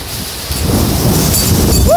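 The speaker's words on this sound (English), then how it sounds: "Wow. Heavy rain." Heavy rain pours down during a severe thunderstorm with tornado-strength winds, a loud, dense, steady roar close by with no talking.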